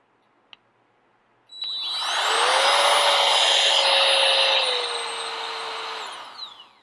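GIGA Pump 4.0 backpacking air pump, preceded by a click of its button, whirring up to a steady high-pitched motor whine and airy rush for about five seconds before winding down, close and alone.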